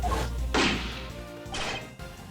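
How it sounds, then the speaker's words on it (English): Two sharp metallic impacts from a bullet striking something in the Ace Attorney Investigations 2 video game, each a loud whack roughly a second apart, ringing briefly over a low droning backdrop. "If you listen carefully, you can hear that bullet hit something too."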